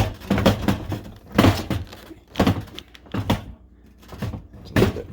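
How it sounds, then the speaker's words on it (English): A dishwasher door being lifted up out of its hinge during a home seal repair gives a series of dull thunks and clunks with scraping between them, close and moderately loud. "now open the door slightly and try to pull the door up out of the hinge"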